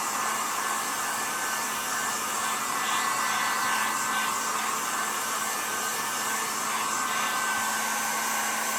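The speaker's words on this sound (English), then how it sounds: "I just take the heat gun and dry that layer, that coat" Electric heat gun blowing steadily to dry a coat of spray sealer on a craft canvas, a constant close whooshing hum with no pauses.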